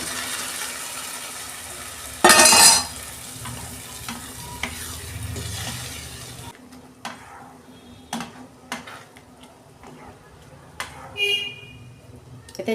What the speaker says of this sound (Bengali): আমি এবার তরকার কড়াইটা দিয়ে দিচ্ছি